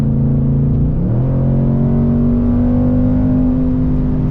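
A 2024 Ford Mustang GT accelerates hard, its V8 engine note climbing steadily as the automatic transmission downshifts and pulls, a loud, continuous rising roar up close with no talking.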